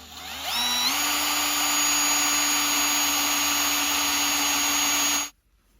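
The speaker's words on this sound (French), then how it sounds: "donc ici on va percer des trous pour pouvoir mettre des petits serre-flex pour tenir" A power drill bores holes into the housing of a BionX e-bike hub motor, running steadily at high speed for about five seconds after a quick spin-up, then stopping abruptly.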